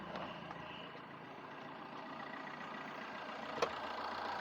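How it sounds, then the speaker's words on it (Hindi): A rebuilt Fiat 1.3-litre car engine idles steadily with an even, low rumble and no speech, one short click partway through. "आवाज़ सुनाता हूँ मैं आपको इंजन का"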